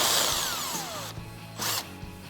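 A power tool whirs continuously at close range as it removes an 8mm bolt from the air box of a 2006-2022 Dodge Charger 5.7L, with the motor's pitch sliding and a brief burst near the end.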